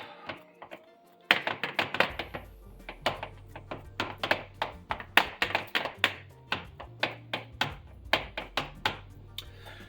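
Fingertips dimpling focaccia dough in a pan give a quick run of soft, close, damp taps and thuds in an uneven rhythm, starting after a brief quiet moment, with no talk.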